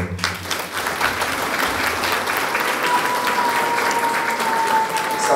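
An audience at a Christmas show in Dărmănești claps steadily and warmly throughout, a dense even patter of many hands with a faint held tone in the background.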